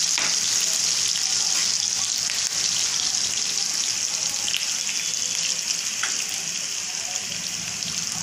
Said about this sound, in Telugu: ఇదండి ఉల్లిగడ్డ కాలింది